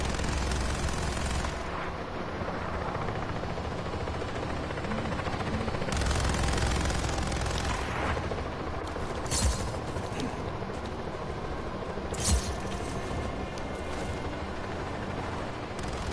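Gunfire from a helicopter attack in the video game Just Cause, heard as a dense, continuous barrage with a few louder bursts standing out against a steady roar and no talking.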